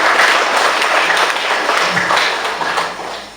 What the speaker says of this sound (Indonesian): Kita berikan tepuk tangan bagi Pak Juandi David